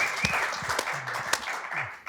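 Audience applause at a live event in Las Vegas, a broad wash of clapping with crowd noise and a few scattered voices mixed in, moderately loud and fairly steady.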